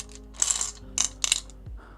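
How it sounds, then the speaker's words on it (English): Small real runes clatter and click as they are shuffled by hand, several sharp bright bursts close by in quiet surroundings. "we actually shuffle real runes over here."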